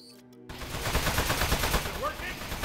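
Rapid bursts of gunfire aimed at a metal robot in the video game Aperture Desk Job, starting abruptly after a brief quiet and continuing densely and loudly, with faint voices mixed in.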